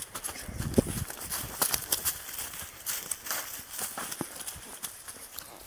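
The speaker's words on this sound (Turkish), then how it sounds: "Ben de koyunlara yetişmek için biraz atla koşmaya çalışıyorum." A horse running across open ground while herding sheep, hooves clip-clopping in a quick uneven rhythm close by, with brief rustling and faint background noise.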